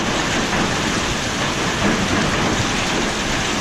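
Hail and heavy rain pound down during a severe night storm with strong wind, a dense, steady roar of pelting impacts that fills the whole stretch without a break and with no voices.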